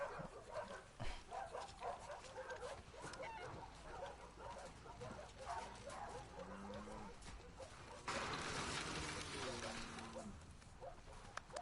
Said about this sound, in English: You crazy dog.